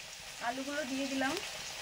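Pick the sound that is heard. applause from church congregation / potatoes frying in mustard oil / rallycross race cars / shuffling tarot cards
potatoes frying in mustard oil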